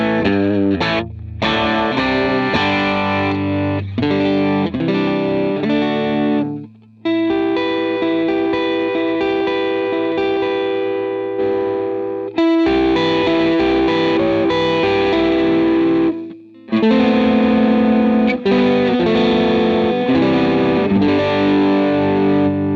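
Electric guitar through a Line 6 POD Go preset with distortion, chorus and long sustain, playing sustained chords and single notes loud and close, broken by a few brief pauses.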